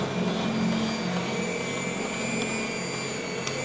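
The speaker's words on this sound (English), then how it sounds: "vacuum motor" VelaShape V9 desktop body-contouring machine's vacuum motor running steadily, a loud continuous whirring hum with a faint high whine and no pauses.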